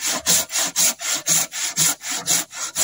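Hand saw cutting through a wooden door jamb in steady back-and-forth strokes, about ten rasping passes close up with no voices.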